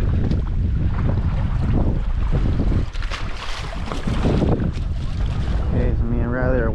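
Wind buffets the microphone over choppy water at a fishing spot by some docks, a steady loud rushing roar with brief speech near the end.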